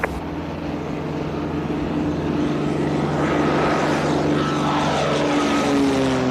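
A propeller airplane with full flaps flies slowly and low, pacing alongside a moving truck and trailer, its engine droning steadily and loudly throughout with a rising whine near the end.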